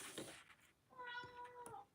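A cat meows indoors during a paper-crafting session, a clear drawn-out meow with a second shorter call, fairly close and alone without talk.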